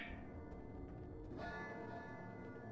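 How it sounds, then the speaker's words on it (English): A church bell tolls in the video game Dream of the Blood Moon, its sustained ringing tones layered over a dense, steady ambient drone, with a fresh strike about halfway through. "Oh no, that's the bell, not the monster."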